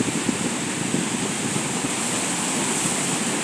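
Small waves roll in along a river shore in a steady, broad wash of water noise, close and continuous, with no talking.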